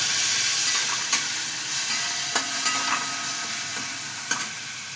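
A paste of ground soybean, ginger and green chili hits hot oil in a pan for a pointed gourd dish, hissing in a steady, close sizzle broken by a handful of sharp spatula clicks against the pan.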